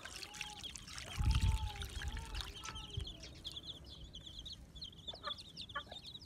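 Small chicks chirping in short high peeps while being given water with a multivitamin, faint and scattered, with a brief nearby clatter and a dribble of poured liquid early on.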